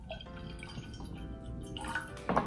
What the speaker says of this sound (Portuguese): Então, vamos colocar aqui a medida da água.